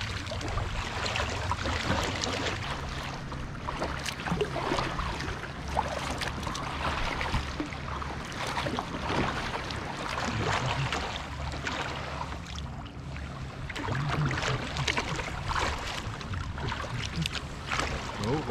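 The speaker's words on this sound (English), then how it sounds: "Anyway, let's paddle out." A fishing kayak is paddled out on the sea off Shoreham in the UK, with continuous close splashing and water rushing along the hull, blended with wind noise across the whole stretch and no speech.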